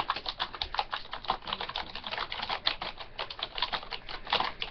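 Fast, continuous tapping on a computer keyboard, crisp keystrokes close up in an uneven but busy rhythm, with no talking.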